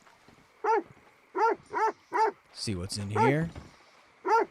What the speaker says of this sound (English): Man, that dog is going crazy.